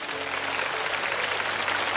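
An audience claps to welcome two veteran steelworkers onto a stage at a commemorative event, a dense, continuous wash of applause filling the whole moment.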